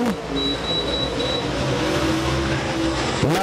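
Super Late Model race car on a qualifying lap at Tazewell Speedway, its steady engine drone holding loud and constant throughout with a shifting pitch, ending in a brief swell as it passes close.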